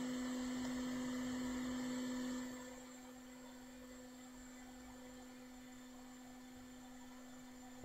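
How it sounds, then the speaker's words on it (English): A hot air rework station blows onto a chip on a 2017 MacBook Pro 13-inch logic board. The steady airflow hiss and hum is louder at first, then drops to a lower, even level that holds to the end. "Let's heat it up once again to get all the balls in place"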